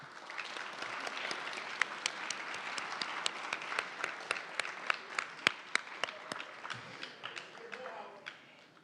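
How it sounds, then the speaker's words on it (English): A college convocation crowd applauds with dense, steady clapping and a few sharp nearby claps over about eight seconds. The applause thins toward the end, and voices talk beneath it. "clap it up for that"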